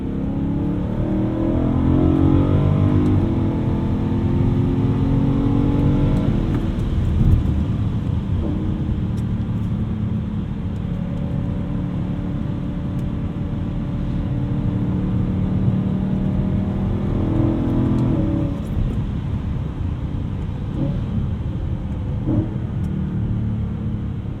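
A 2010 BMW E92 M3 with a DCT gearbox revs and roars steadily while driving, its deep exhaust note rising and falling through gear changes, loud and close throughout.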